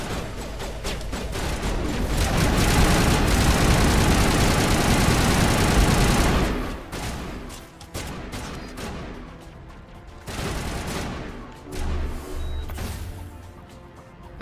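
Rapid shotgun and weapon fire in the video game Mass Effect, a loud dense barrage for several seconds that cuts off abruptly, followed by quieter scattered bursts and engine-like hum.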